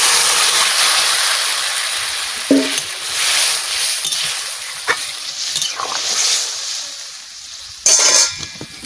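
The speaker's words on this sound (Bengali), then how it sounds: "মশলা আবার ভাজা হয়ে গেছে, আমি তরকারি ঢেলে দিচ্ছি।" Vegetables poured into hot oil with fried spices, a loud steady sizzle hissing continuously, with a few stirring scrapes and clinks on the pan, close up and without talk.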